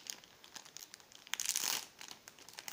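A plastic toy packaging bag from a Burger King Miraculous Ladybug promotion is crinkled and torn open by hand without scissors, giving a run of close crackly crumples that swell into a louder tearing burst before settling.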